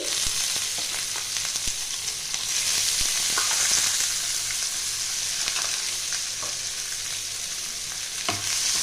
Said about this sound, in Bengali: পেঁয়াজটা একটু ভাজবো আমি